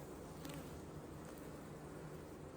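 Honey bees buzz around an open hive in a dense, continuous drone, fairly faint but steady throughout, with no voices.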